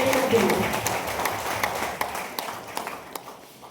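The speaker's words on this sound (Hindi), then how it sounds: "एक जोरदार ताली होना चाहिए" Applause at a DXN business meeting in India starts as a fairly full round of clapping, then thins into scattered, sharper individual claps as it tails off.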